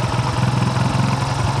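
A small carbureted engine runs at high RPM during carburetor tuning, a loud, close, steady buzzing drone with a rapid pulsing throb and no talk over it.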